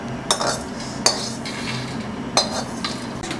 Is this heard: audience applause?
no